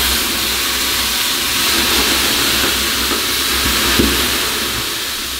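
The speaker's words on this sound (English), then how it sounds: "you can add some water on the rocks and create more steam." Water poured onto hot rocks in a Finnish sauna sends up a loud, continuous steam hiss that holds steady with faint knocks underneath.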